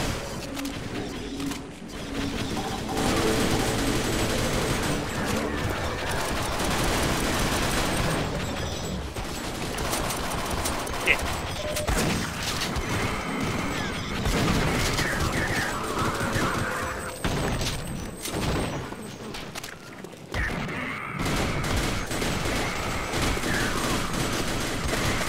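A submachine gun in Sven Co-op fires in long rapid bursts, nearly continuous and loud over the whole stretch, with brief pauses and other game noises mixed in.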